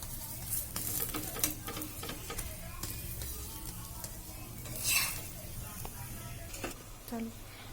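A cauliflower paratha browns and sizzles on a hot pan, a soft crackling hiss broken by scattered clicks and scraping touches from the cooking.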